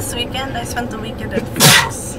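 A single sharp sneeze bursts out near the end, following a stretch of quiet talking.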